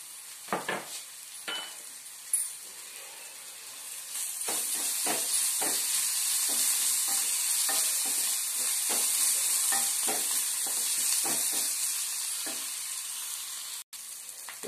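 Poha upma fries and is stirred in a pan, a close, bright sizzle with repeated scraping strokes of the spatula that grows steadier and louder after the first few seconds.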